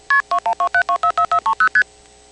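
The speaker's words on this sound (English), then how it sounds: "it turns out there has been an MF sender on the line for some time, because here it goes" Multi-frequency sender tones on a telephone line: about a dozen crisp two-tone bursts pulse out in quick, even succession, loud and close, then stop and leave a faint line hiss.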